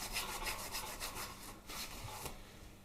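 A gasket scraper rubs back and forth across the head surface of a Harley-Davidson Twin Cam 88 cubic inch engine cylinder head, a quiet, rhythmic rasping scrape of metal on metal in quick repeated strokes.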